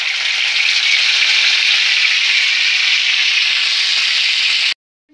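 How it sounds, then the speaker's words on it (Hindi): Marinated chicken pieces frying in hot oil in a pan, a loud, steady broadband sizzle that holds evenly for nearly five seconds and then cuts off abruptly into silence. "अब हम इसमें चिकन को फ्राई कर लेंगे।"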